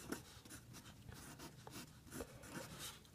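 Faint, close scratching of a pen or pencil writing fractions by hand, short strokes repeating in an uneven rhythm.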